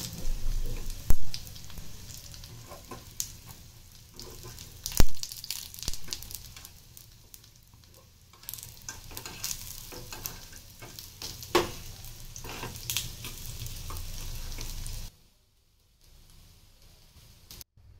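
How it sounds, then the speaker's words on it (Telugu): Raw banana bajji in urad dal batter shallow-fry in a little oil, a continuous close sizzle broken by louder clunks and stirring scrapes as pieces are turned. The sizzle cuts out near the end. "ఇది డీప్ ఫ్రై చేయకుండా ఇలా కొంచెం ఆయిల్తో చేసుకుంటే మీకు ఆయిల్ కూడా ఎక్కువ పట్టదండి"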